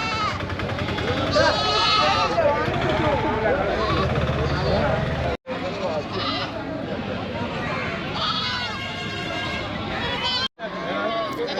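Goats and young kids bleat repeatedly at the crowded Vaniyamkulam goat market in Kerala, calls overlapping amid constant market bustle, with people talking throughout and two brief gaps of silence.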